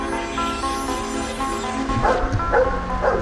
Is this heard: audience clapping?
no